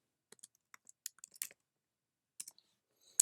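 Fingers tap out short bursts of clicks on a computer keyboard, close and quiet, with a pause in the middle and no talking.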